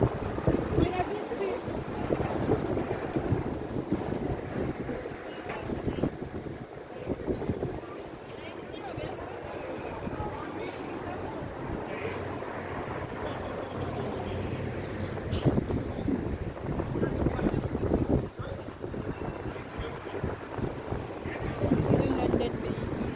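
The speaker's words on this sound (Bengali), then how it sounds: "কনকনে বাতাস" Cold gusty wind buffets the microphone on the bank of the River Thames near Tower Bridge, a loud continuous rumble with faint water and boat sounds, while a person speaks over it.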